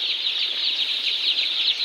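Many young brooding chicks on a poultry farm, kept warm in cold weather, peep together in a dense, continuous high-pitched chorus that stays steady and close throughout.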